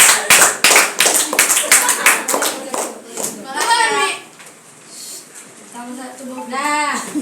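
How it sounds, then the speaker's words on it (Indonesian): Schoolchildren in a classroom clap for their classmates, a quick run of rhythmic, loud claps that fades out, followed by a teacher's voice talking. "Yuk kasih tepuk tangan untuk kawannya ya."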